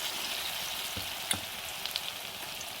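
Banana flower pakoras fry in hot oil with a steady, close hiss and crackle, plus a few sharper pops and one clear utensil tap partway through, with no voices.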